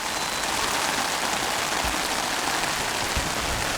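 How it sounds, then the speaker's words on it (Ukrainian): Steady rain pours down on an outdoor pitch during an under-14 youth football match, a dense, even hiss of drops with occasional low thumps and no voices. "Ну а дощ у нас і не думає стихати"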